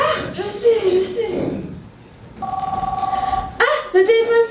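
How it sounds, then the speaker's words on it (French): A telephone rings with repeated electronic trills in a quiet indoor room, interleaved with a woman's short spoken exclamations and a chuckle. "Ah, le téléphone sonne."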